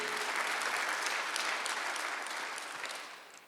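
Congregation at a Sunday church service clapping together in a steady, dense burst of applause that holds strong, then tapers off near the end.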